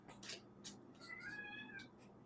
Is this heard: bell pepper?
no